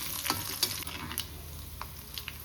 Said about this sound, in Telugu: ఇవన్నీ బాగా కలుపుతూ వేయించుకోవాలి.